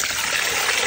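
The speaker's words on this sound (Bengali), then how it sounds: "আমি এই চালটাকে একদম কুচলিয়ে ভালোভাবে ধুয়ে নিচ্ছি।" Pulao rice being rubbed and washed by hand in water, a steady close trickling and sloshing that runs on without pause.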